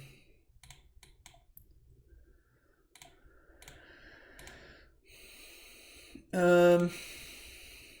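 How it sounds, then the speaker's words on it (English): Mouse clicks in an online Legacy Magic card game come as sharp, scattered taps at close range, with some breathing, and a loud tonal burst near the end. "This is a lot of clicking."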